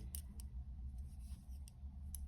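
Scissors snip through yarn while a summer openwork blouse is being knitted, a few faint, sharp clicks at close range over a steady low hum.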